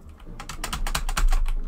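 Computer keyboard keys pressed in a rapid, uneven burst of close clicks while someone plays a racing game, with no talking.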